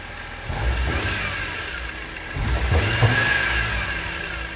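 A stock BMW E46 M3 engine revs in two longer, subdued pulls over a steady idle, sounding muffled and somewhat flat, close by with no talking.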